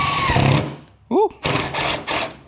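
A power drill bores through the metal hood of a turbocharged BMW E36, sending up metal shavings; short, loud whirring bursts start and stop in quick succession close by.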